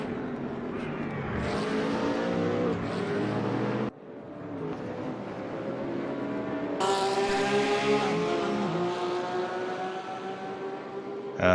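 Porsche GT3 race cars in a racing video game at EuroSpeedway Lausitz, engines revving and droning loudly through gear changes, with a sharp cut and a fresh surge of rising engine tone partway through, no voices.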